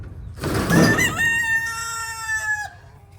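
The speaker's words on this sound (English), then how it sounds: "we're gonna let the chickens out" Chickens and a rooster let out of their coop cluck and crow loudly and close by, with several overlapping squawks and calls and no talk.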